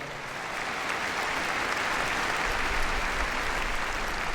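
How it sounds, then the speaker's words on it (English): Sustained applause fills the arena at Crufts for Carmen and her dog Gimli after a heelwork to music freestyle routine, a steady dense wash of clapping from a large crowd with no talk over it. "Give him a big round of applause."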